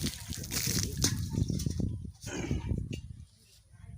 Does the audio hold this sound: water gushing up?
yes